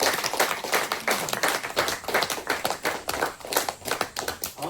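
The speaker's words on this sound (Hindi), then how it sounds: "जोर से ताली बजाइए प्रभु के धन्यवाद दे" A church congregation claps in quick, rhythmic unison during a Hindi-language worship service, loud and close, with steady beats repeating for several seconds.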